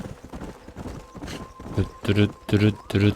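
Horses gallop with rapid hoofbeats in the Red Dead Redemption video game, heard under a voice speaking over the action.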